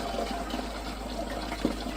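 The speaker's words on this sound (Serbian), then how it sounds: "uzet ćemo ovu neverovatnu tečnost, organsku od koprive, i procediti je" Organic nettle liquid fertilizer being strained before pouring into a sprayer, a soft steady trickle and pour of liquid close by with a small splash near the end.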